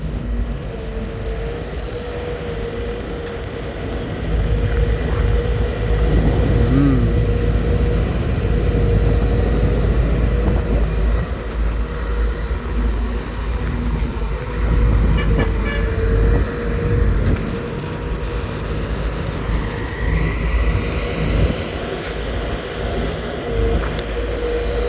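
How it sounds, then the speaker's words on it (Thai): An excavator digs at a pond site in Khaen Dong, Buriram, Thailand; its engine drones steadily with a low rumble and a sustained tonal hum, growing louder after a few seconds, with no speech. "ชมลีลาการขุดของเขาหน่อยครับ"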